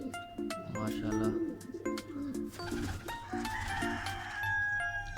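A prized pigeon coos softly in a loft, a repeated throaty burbling close by with faint bird and animal sounds in the background.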